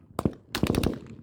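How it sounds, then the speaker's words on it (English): Rifle gunfire in a roadside attack rings out as a quick volley: two sharp shots followed by a rapid burst of several more, cracking loud and close. "The sound of gunfire goes on for more than 5 minutes."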